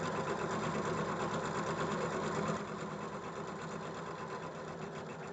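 A sewing machine stitches a quilt block, a quiet, steady mechanical whir that eases slightly in level partway through and carries on alone without talk.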